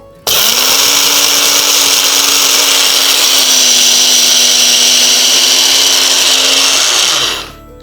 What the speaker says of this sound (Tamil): கொப்பரை தேங்காய் நல்லா துருவிட்டு மிக்சியில் போட்டு அரைக்கணும்